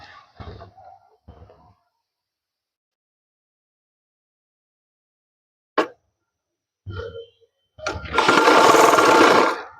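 A sewing machine stitching the back pocket of a man's trousers, short bursts of motor whir separated by long silences, ending in a longer, louder run of stitching near the end.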